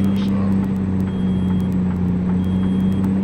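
A steady beeping low air pressure warning sounds in a truck cab in American Truck Simulator, repeating at a regular pace over a constant low engine idle hum.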